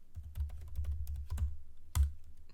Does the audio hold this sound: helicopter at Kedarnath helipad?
no